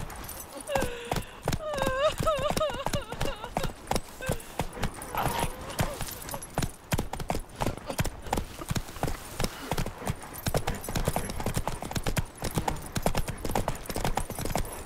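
Horse hooves clip-clop steadily while riding in The Witcher 3 Next Gen, a dense rhythmic patter close by, with a brief whinny near the start and voices talking over it.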